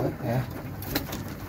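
A pigeon gives a soft, close coo during a short moment, with voices talking around it.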